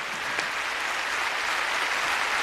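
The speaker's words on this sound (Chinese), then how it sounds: "我们掌声欢迎" A television studio audience applauds to welcome a contestant onto the stage, a steady wash of clapping that holds at an even, moderate level with no voices over it.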